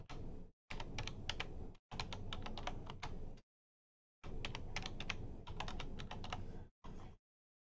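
Fingers typing a password on a computer keyboard, bursts of rapid close key clicks separated by short pauses, quiet and alone without talking.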